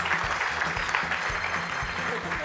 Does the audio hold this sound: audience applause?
yes